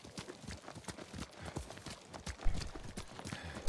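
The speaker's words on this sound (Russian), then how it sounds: "Лошадь сама скачет" Rhythmic hoofbeats of a horse galloping steadily in Ghost of Tsushima, close and fairly loud, with a faint game-like background and no talking.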